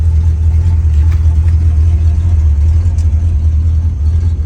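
Restored 1966 Ford Mustang engine running steadily at a low idle, a loud, close, continuous deep rumble with an even throb and no revving.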